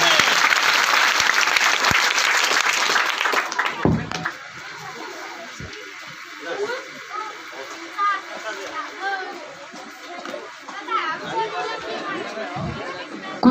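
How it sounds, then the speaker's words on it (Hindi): Loud applause from a crowd at a Teacher's Day program held by a coaching center, strong for about four seconds, then dying into scattered claps and lively chatter and voices. "जोरदार ताली बजाइए।"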